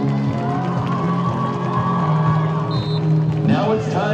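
A crowd at a high school homecoming football game cheers and applauds, loud sustained shouting and whoops with clapping, and voices calling out over the din.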